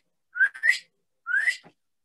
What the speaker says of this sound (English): Some birds make beautiful or simple whistles, like the northern cardinal.